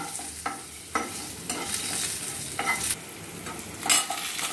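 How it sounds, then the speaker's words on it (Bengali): Cut potatoes sizzle and crackle in hot oil in a kadai already tempered with dried red chillies, with steady frying hiss and several brief scraping stirs, close and fairly loud, no talking. "তারপর দিদি তেলের মধ্যে দিয়ে দিল কেটে রাখা আলুগুলো"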